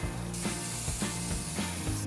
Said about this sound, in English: My first step is going to be to spray paint all of the metal with a really nice soft gold.